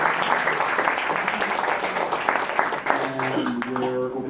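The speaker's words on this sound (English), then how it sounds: "Everyone, let's give them a round of applause." Audience applause at a game developers' meetup in Manila, filling the room with steady dense clapping for a panel, close and sustained, with some voices and murmuring mixed in near the end.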